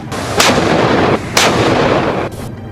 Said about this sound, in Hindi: और दुश्मनों पर गोले बरसाती तोपें